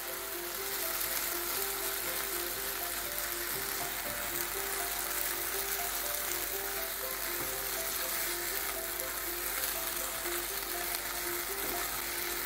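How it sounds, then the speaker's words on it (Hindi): Sabudana (sago pearls) dry-roasting in a pan for kheer, giving a steady, soft sizzle with faint stirring scrapes, continuous and close, with no talking. "इसको हम 2 मिनट के लिए भूनेंगे, जिससे एक तो फ्लेवर ही बढ़ेगा और इससे साबुदाना एकदम खिला खिला रहेगा।"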